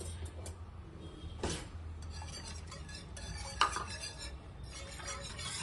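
Coconut paste being stirred into tender coconut milk pudding in a bowl: soft scraping and clinking of a spoon against the dish, with a few sharper taps, close and quiet without talk.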